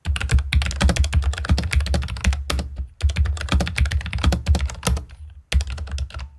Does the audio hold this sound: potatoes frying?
no